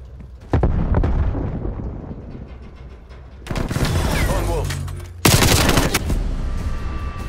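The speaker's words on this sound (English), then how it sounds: "Throwing frag grenade." A frag grenade blast and gunfire in the video game Call of Duty: Black Ops Cold War, with loud, sustained bursts of shooting and booming explosions coming in waves, close and heavy.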